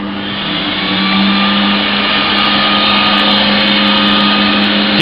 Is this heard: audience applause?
no